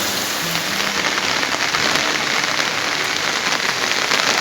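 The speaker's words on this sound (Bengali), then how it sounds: "আমাদের এইখানে খুব জোরে বৃষ্টি পড়ছে আওয়াজটা দেখুন হয়তো শুনতে পাবেন" Heavy rain pours down steadily and loudly, a dense, unbroken hiss of drops striking surfaces that fills the whole stretch.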